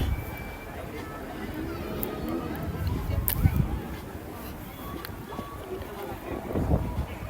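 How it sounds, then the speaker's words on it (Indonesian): Strong wind at sea near Osaka, with the Awaji Islands bridge in view, rumbling and buffeting the microphone in low gusts, with a faint whistle and occasional louder bursts, under a quiet voice. "Tapi anginnya agak kencang."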